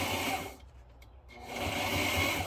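A sewing machine hums steadily while stitching a fabric notepad holder, briefly dropping away as the needle stops for a pivot at a corner, then resuming its close, even whir.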